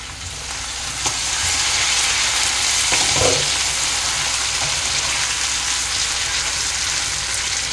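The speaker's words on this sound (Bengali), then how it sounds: "গ্যাসটা অফ করে দিয়ে ওটা একটু নাড়াচাড়া দিয়ে নেব" Mutton for kala bhuna sizzles steadily in a pan with the gas just turned off, while a spoon stirs and scrapes through it in a few brief strokes; the continuous frying hiss dominates, fairly loud and close, with no talking.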